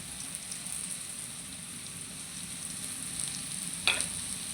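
Spices tossed into a pan of lightly fried onions for an egg and potato curry give a steady, fairly quiet sizzle with a brief stirring scrape near the end.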